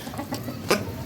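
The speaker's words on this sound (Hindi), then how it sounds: "अभी मैं फ़िलहाल ये सारा खाना इनको खिला दूँ और बंद कर दूँ अपनी मुर्गियों को।" Caged chickens fed by hand give soft, faint clucks and scratchy pecking sounds, with one brief louder squawk near the end.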